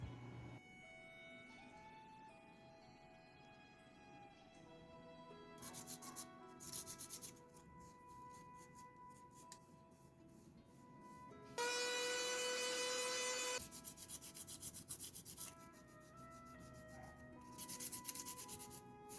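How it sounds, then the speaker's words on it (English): Sandpaper rubbing over a handmade clay figure, a soft continuous scratchy friction that swells in louder bursts of strokes, close and steady, with no talking, backed by faint music. "I had to use sandpaper to smoothen out some of the parts of the figure"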